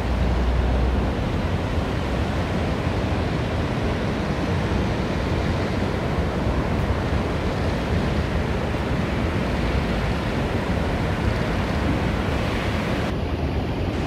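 Ocean waves breaking at Balneário Camboriú beach, a loud continuous roar of surf mixed with buffeting wind noise, steady throughout with no voices.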